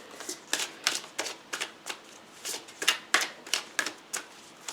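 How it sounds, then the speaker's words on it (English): Overhand shuffling of a deck of cards: a rapid series of about fifteen crisp papery slaps in a brisk, fairly even rhythm, close and clear, with no talking. "I overhand shuffle"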